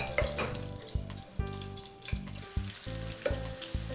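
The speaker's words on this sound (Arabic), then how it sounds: "نخليو هذاك الزيتون يتقلى شويه" Olives fry in oil in a pan with a steady, close sizzle and crackle that stays even throughout, with no voices.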